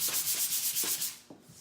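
A sanding pad rubs back and forth over a furniture piece during paint prep, a close rhythmic scratchy swish in roughly even strokes, with a small knock near the end and no talking.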